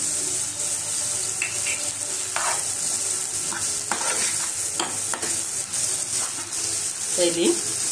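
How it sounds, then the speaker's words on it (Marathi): Vegetables sizzle steadily in a hot pan while a utensil scrapes and stirs them in short strokes, close and fairly loud. "चांगली आता परतून घेऊ"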